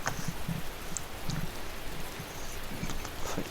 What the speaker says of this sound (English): By the time we had our lunch, the drizzle has turned into downpour.